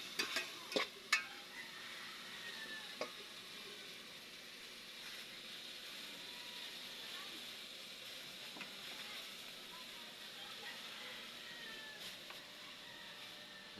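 Coconut milk is poured into hot oil in a pan and stirred, a faint steady sizzle with a few light utensil knocks early on, heard from close by and fairly quiet.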